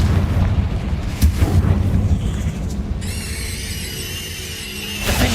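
Confringo fire spell from Hogwarts Legacy erupting in several deep booming blasts, with a bright sizzling burst late on and a sharp crack at the end, no speech.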